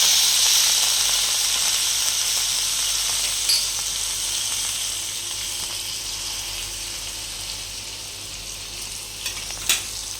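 A steady sizzle of ingredients frying in a pan for tomato egg curry, with occasional stirring scrapes and a few sharper clicks near the end, continuous and close with no voices.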